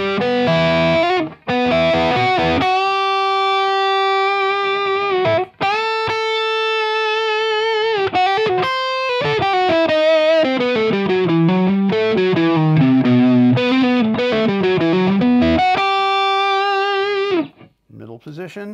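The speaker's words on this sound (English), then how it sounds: "heavy distortion. Heavy. I like to call it mondo. Heavy mondo." A heavily distorted 2021 Gibson SG electric guitar plays sustained, buzzing notes with bends and slides, loud and close, with brief pauses between phrases.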